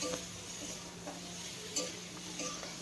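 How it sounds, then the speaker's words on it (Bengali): A spoon stirs cumin and turmeric powder into vegetables in a pan over a low flame, soft scraping with light clinks and a faint sizzle, quiet and continuous. "এখন খুব ভালো করে এইভাবে মিশিয়ে নেব।"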